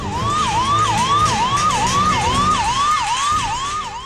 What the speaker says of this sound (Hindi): पुलिस वालों को भी अपने गाड़ियों के सायरन बजा कर इनको भगाना पड़ा है टिड्डियों को